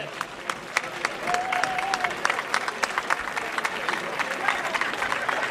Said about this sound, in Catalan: Un fort aplaudiment per ell.